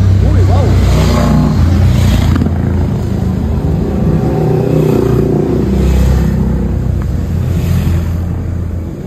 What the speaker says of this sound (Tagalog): Big bike.